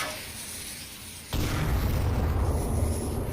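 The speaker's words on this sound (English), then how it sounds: "And the nade almost getting Parzival." Grenade blast in the VR shooter Onward during a competitive match, a sudden loud boom that cuts in abruptly and leaves a sustained rumbling roar afterward.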